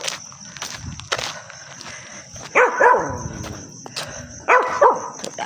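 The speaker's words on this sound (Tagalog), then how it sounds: "Aso." A leashed dog barks along a jogging route, two sharp clusters of loud, close barks separated by quieter stretches of footsteps and outdoor background.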